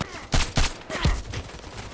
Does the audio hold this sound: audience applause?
no